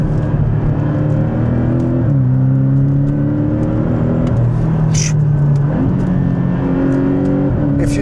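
A Porsche 718 Boxster GTS engine pulls hard on the move, loud and close, climbing through the revs in repeated rising sweeps with quick dips at each gear change under a steady road whir.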